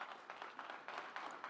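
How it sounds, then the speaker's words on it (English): Audience at an awards ceremony giving a round of applause, steady pulsing clapping from many hands in a hall, soft and distant, with no voices over it. "a huge round of applause for everyone who's sitting here"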